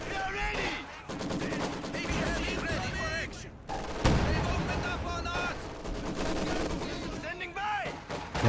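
MG42 machine gun bursts and dense gunfire and explosions from a Company of Heroes 2 battle, rapid rattling volleys overlapping with booms, loud and continuous with a voice talking over them.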